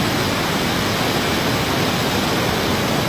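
Loud, steady roar of floodwater as a river overflows to bridge height in El Salvador after Tropical Storm Alberto in 2024, broadband rushing noise filling the whole clip with no pauses and no voices.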